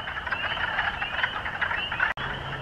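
Chorus of frogs calling at a vernal pool in early spring, a dense, continuous trilling croak throughout, moderately loud and outdoors, with a brief click near the end and no talking.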